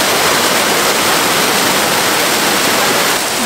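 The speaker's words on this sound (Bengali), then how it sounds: "তার মধ্যে একটা হচ্ছে এই ঝর্নার আওয়াজ, মাইন্ড ব্লোয়িং" Waterfall near Rishikesh pouring white water, a loud, close, unbroken roar of rushing water filling the whole stretch without a pause.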